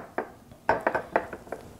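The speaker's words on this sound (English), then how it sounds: "Give that a stir in." A spoon scrapes and clinks against a pot while stirring Maryland cream of crab soup with fresh parsley, giving a few short metallic knocks close by, spaced irregularly, with no talk.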